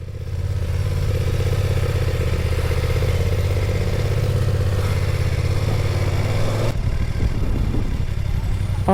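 A motorcycle engine runs nearby with a steady, throbbing hum, then its tone shifts abruptly near the end.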